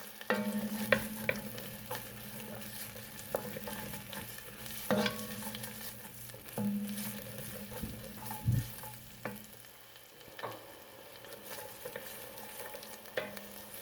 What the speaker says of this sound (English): As the onions saute, start to smell them.